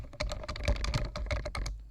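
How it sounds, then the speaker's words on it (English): Loud computer keyboard typing close to the microphone, a rapid irregular run of clacking keystrokes with no voices. "Apologize for the loud keyboard in the microphone"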